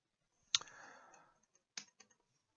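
Keys on a computer keyboard click: one sharp, near keystroke followed by a few lighter, scattered taps, heard alone in a quiet room.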